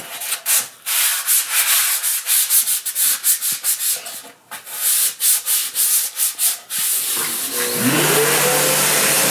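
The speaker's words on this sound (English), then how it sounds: "This Ecodiamond sanding sponge won't tear. It's kind of a rubber sponge instead of a paper sponge." A rubber Ecodiamond sanding sponge rubs back and forth over spackled window trim in quick, loud rhythmic strokes, close up with a brief pause midway, before a rising mechanical whine enters at the end.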